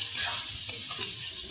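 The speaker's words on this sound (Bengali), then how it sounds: "আর কেটে রাখা টমেটো দিয়ে ভালোভাবে কষিয়ে নেব।" Spices, chopped tomatoes and potatoes sizzle and hiss in a pan while being stirred, bright frying noise with quick scraping strokes over a short burst, close and without talking.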